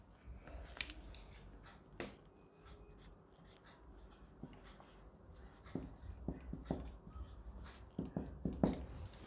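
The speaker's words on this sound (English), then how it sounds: "So I can write those sentences like this." Sentences written by hand make faint, close scratching pen strokes in short bursts, growing a little busier toward the end, with no talking.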